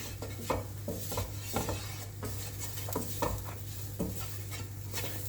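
Butter, flour and onions are stirred in a pan with a faint sizzle, a spoon scraping and tapping in a loose rhythm of about six strokes, close and fairly quiet under a low hum.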